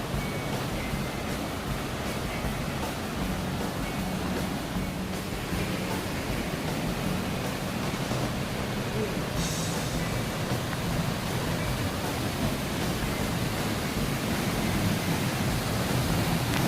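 Kaiate Falls, a waterfall near Tauranga in New Zealand, roaring as a constant broadband wash of falling water, steady and loud throughout with no voices over it.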